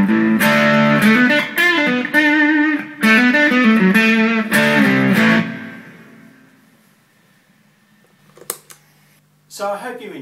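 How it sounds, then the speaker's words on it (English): Loud electric guitar through a tube-based distortion pedal playing chords and notes for about five seconds, then a ringing fade, followed by a few short pick scrapes and a final burst. "Next we have our tube-based distortion pedal"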